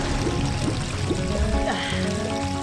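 River water rushing and gurgling in The Legend of Zelda: Ocarina of Time, a steady loud stream with bubbling flow and game music underneath, no voices.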